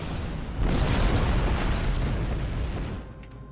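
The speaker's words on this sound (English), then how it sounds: "And sometimes the explosions are a lot louder" A deep, rumbling explosion in the video game Star Trek Online roars loudly and sustains for a few seconds before tapering off, with no voices.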